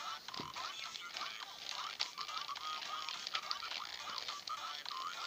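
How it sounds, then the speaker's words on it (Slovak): A 3x3 Rubik's cube being taken apart by hand: dense, close plastic clicking and rattling runs steadily throughout, with no voices. "prvý krok, rozložíme kocku"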